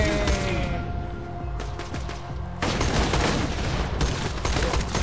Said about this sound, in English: we're gonna do burst shots, because holding has horrible aim